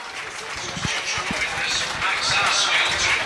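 Rugby league crowd at a 1991-92 home match against Widnes applauding as an injured player goes off, a steady broad patter of clapping and murmur from the stands with a commentator talking over it.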